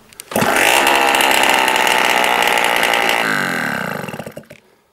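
Derbi 50cc motorbike with an open exhaust fires up and revs hard, a loud buzzing two-stroke rasp held for a few seconds, then its pitch drops and it sputters out, close and alone.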